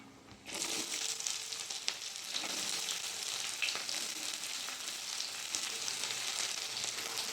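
Chopped onions sizzle and crackle in hot mustard oil with whole cumin and a bay leaf in a kadai, a sudden loud burst of frying that settles into steady, close hissing with occasional stirring scrapes.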